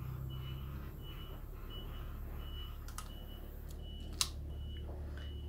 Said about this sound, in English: Ah, the joys of living on a building site. The trucks are here.